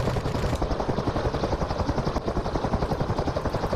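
Rapid, sustained gunfire from both forward-firing guns of a CH-53E Super Stallion helicopter in DCS World, a dense rattling burst running steadily over the helicopter's rotor and engine drone.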